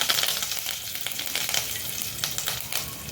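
Cumin seeds go into hot oil where mustard seeds have already popped, for a Schezwan fried rice base. The oil gives a steady, close sizzle with fine crackles throughout and no talking.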